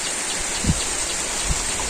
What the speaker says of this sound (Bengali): বৃষ্টি তো দেখি বৃষ্টি একটু যদি থামে